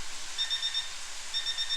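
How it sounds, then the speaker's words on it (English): A kitchen timer beeps in two short bursts of rapid electronic pips over a steady background hiss. "There goes my timer."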